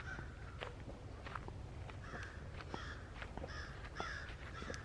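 Crows cawing loudly and repeatedly outdoors in a burst of harsh, overlapping calls, some nearer and some farther, with faint footsteps and rustling underneath.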